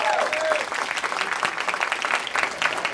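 Audience applause and cheering at an interview event, dense clapping with scattered whoops filling the whole stretch, fairly close and loud, with a brief voice at the start.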